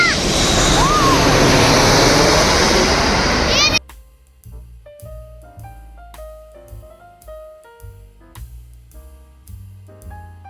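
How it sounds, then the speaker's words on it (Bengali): A fixed-wing airplane comes in to land nearby, its loud jet roar and engine whine filling the first few seconds before cutting off, followed by a child and others chattering over quieter background noise. "আবার একটা প্লেন নামা দেখবো"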